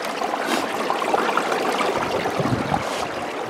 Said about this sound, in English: I found it because I could hear the water.